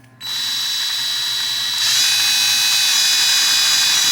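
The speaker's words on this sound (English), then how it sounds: "take your drill, you put your Q-tip in the end of the drill, clamp her down, like that, and you've got a seat cleaner." A cordless power drill with a Q-tip clamped in its chuck whirs up and spins steadily, a loud close whine that steps up in pitch partway through as the trigger is squeezed harder; no talking.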